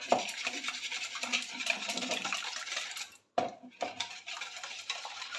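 Sugar mixture with vanilla sugar being beaten for pancake batter, a fast rattling scrape of a whisk against a bowl, steady and close, with a brief pause partway through before the beating resumes.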